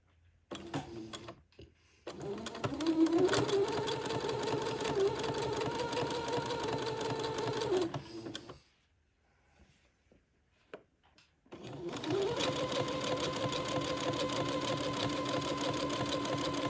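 A sewing machine zigzag-stitches an entre-deux seam in fabric, running in a steady close-up whir for several seconds, stopping briefly, then starting up again at the same even pace.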